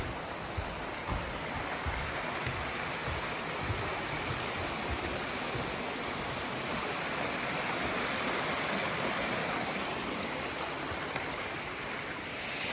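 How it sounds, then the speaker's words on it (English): Lovers Falls, a small waterfall reached by a rainforest walk, pours in a steady, full rush of falling water that stays loud and unbroken throughout, with no voices. "we made it to the very, very pretty Lovers Falls"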